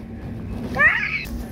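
A single drawn-out, rising-and-falling meow aboard a yacht, heard over a steady low background rumble.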